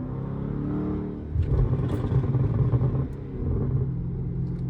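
A Chrysler 300 SRT pulls away, its engine rumbling low and then revving up in a surge of throaty acceleration before settling back to a steady drone, heard close from inside the car.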